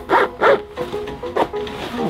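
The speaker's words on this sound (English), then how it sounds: "Zip that puppy up." A zipper is pulled closed on an RV cushion cover in several short, loud rasping strokes with brief pauses between them.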